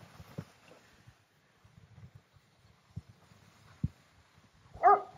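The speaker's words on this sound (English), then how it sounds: "Dogs are going crazy." Dogs at an off-grid camp give a short, distant yip that rises to a single sharp bark near the end, with faint low thumps and rustles in between.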